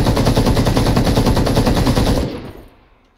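An assault rifle in the video game Ring of Elysium fires a rapid, loud, evenly spaced automatic burst for about two seconds, then stops and the echo fades quickly.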